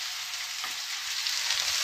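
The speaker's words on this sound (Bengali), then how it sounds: "আর এটা কিন্তু এবার ভালো করে লাল লাল করে আরো ভাজতে হবে" Pui metuli (Malabar spinach stems) frying in a pan until reddish give a soft, even sizzle with a faint scrape, close and quiet, with nobody talking.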